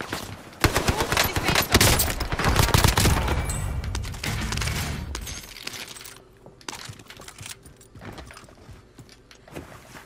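Rapid automatic gunfire and shots in Call of Duty Warzone Pacific, a dense loud barrage for the first half that thins into sporadic cracks and fainter distant shots.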